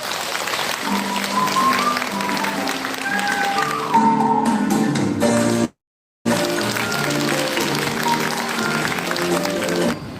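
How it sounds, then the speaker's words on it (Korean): Warm applause from an audience of seniors at a job-training session in a community center, welcoming a center director to speak; steady clapping with some tonal background sound, briefly cut to silence midway before resuming. "뜨거운 박수로 맞아주시기 바랍니다."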